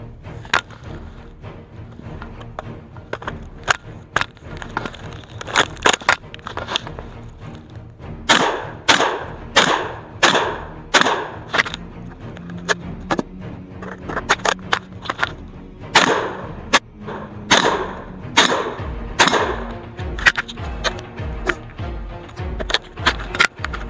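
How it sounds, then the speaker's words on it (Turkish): An 818A1 12-gauge bullpup shotgun fires shell after shell, loud, sharp blasts coming singly and then in quick repeated strings. "Şimdi 200 adet fişek atacağız."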